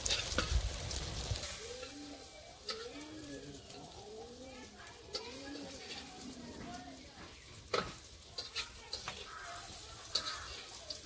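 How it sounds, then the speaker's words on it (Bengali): Brinjal slices fry in hot oil in a village kitchen with a steady soft sizzle, broken by occasional scraping stirs and clinks; a voice talks quietly over it. "এবার এই বেগুনটা তাড়াতাড়ি ভাজা হয়ে যায়।"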